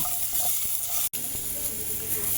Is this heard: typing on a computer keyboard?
no